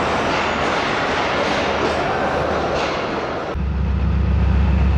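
Tezgam 8 Down passenger train led by new locomotive ZCU 30 6308 idling at the platform before departure: a steady, loud rumble and broadband hiss, with a deeper low engine drone taking over near the end.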